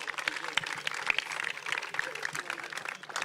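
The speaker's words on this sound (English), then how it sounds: "you can give him a round of applause for that" An audience at a football club's season presentation evening claps in a dense, steady round of applause, fairly faint, with a voice speaking over it.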